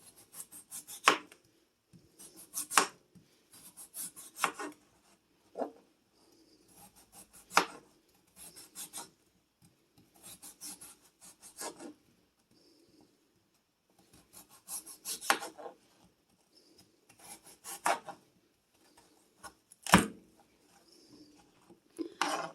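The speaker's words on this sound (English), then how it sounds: "you're going to want to do that until all the potatoes are sliced" Raw potatoes sliced very thin with a knife for Dutch oven fried potatoes, heard as short bursts of quick rasping cuts separated by brief pauses, close and fairly quiet, with no voices.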